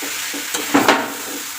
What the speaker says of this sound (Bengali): তো এটা ভাজা ভাজা করে নিতে হবে